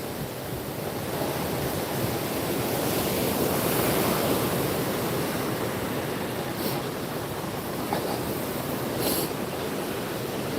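Ocean waves wash continuously against a rocky shoreline edge, a loud, broad rushing surf with wind buffeting the microphone, steady throughout with no talking.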